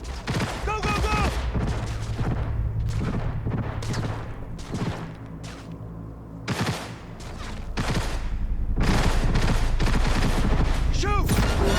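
Heavy automatic gunfire in a Cyberpunk 2077 firefight, dense rapid bursts and booming shots almost without pause, with shouted voices breaking through the din.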